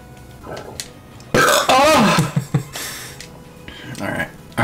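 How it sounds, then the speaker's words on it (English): A long, loud, gurgling burp erupts up close, rising and falling for about a second, with casual talk before and after it. "Those burps are the best"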